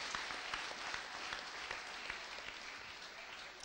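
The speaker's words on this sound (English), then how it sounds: "Shall we give a clap unto Jesus Christ of Nazareth?" A church congregation claps for Jesus Christ at a testimony service, a quiet, continuous patter of many hands with scattered sharper claps standing out, heard faintly from a distance.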